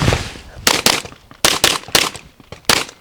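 Rapid gunshots fired at shooting targets on a range ring out as sharp, loud cracks, mostly in quick pairs, about seven shots spread over three seconds with brief gaps of quiet between bursts.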